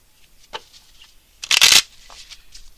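Tarot cards are shuffled and drawn by hand: light riffling ticks, then one sharp close burst of card shuffling, alone without talk.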